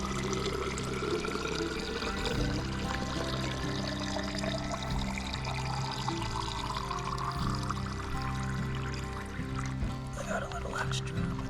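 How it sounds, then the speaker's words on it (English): Stream water is filtered while bikepacking, a steady pour and trickle running close and continuous beside an outdoor background, with people talking over it. "Just filtering some water here."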